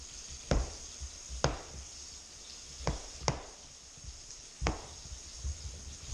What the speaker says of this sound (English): now I'm cutting up the mushrooms